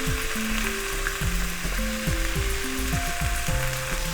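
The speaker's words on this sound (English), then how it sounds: "I've got some chicken legs I'm gonna throw in. I'm gonna do skin side down underneath the onions, just to get a little browning on them." Chicken legs laid skin side down beneath onions fry in a pan for a Tunisian chicken stew, giving a steady, close, continuous sizzle with no talk.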